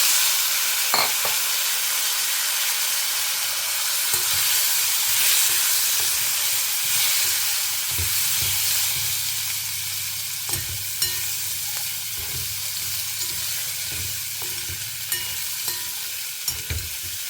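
Indian gooseberries (amla) fry in a pan for a tangy relish, giving off a steady, loud hiss of sizzling oil. Occasional scrapes and knocks come from a spoon stirring them.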